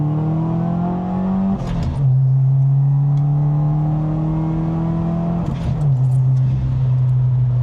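Subaru WRX with a manga-style look accelerating on the road: a steady engine drone rising in pitch, a brief dip at a gear change, then climbing again, loud and close from inside the car.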